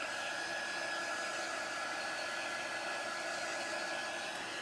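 A hair dryer blows on a craft transfer to dry it, a steady, close, even whoosh with a faint motor whine that runs throughout and has no talk over it.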